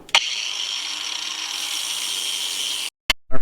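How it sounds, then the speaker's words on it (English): A whiz wheel cuts out a rivet on a cheap carburetor for a 1979 Jeep CJ5, a sharp high-pitched whine held steadily for nearly three seconds, then stopping abruptly with a couple of short clicks after. "That was my whiz wheel busting that little guy out there."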